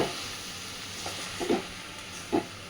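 Cabbage cooked with fish head frying in a pan for a Bengali dish, a soft continuous sizzle broken by a few brief spatula stirs and scrapes near the pan.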